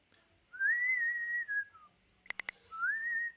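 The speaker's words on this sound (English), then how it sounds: "No whistling near the microphone" Clear melodic whistling close to the microphone, two sustained rising tones with a few sharp clicks between them.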